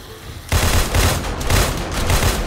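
Rapid automatic gunfire rips out loud and sustained in 7 Days to Die during a zombie horde night, starting abruptly after a quieter moment and hammering on without pause to the end.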